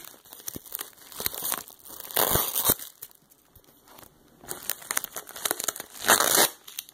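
Cardboard box for a NeoGeo MVS arcade board being opened, with loud close crinkling and tearing of packaging in irregular bursts, the loudest rustles near the middle and end.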